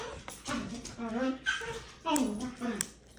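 Dogs playing in a room, with excited whimpers, yips and playful vocal noises coming in bursts close by, mixed with a person's voice.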